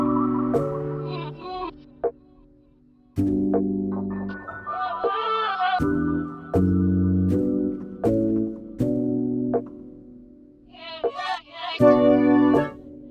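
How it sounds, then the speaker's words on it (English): Reversed, chopped vocal sample: choppy fragments of backward voice in stuttering blocks, some swelling up and cutting off abruptly, with warbly high bits between, moderately loud throughout with short silent gaps. "I have reversed the vocals, cut it up and chosen which ones sound the best"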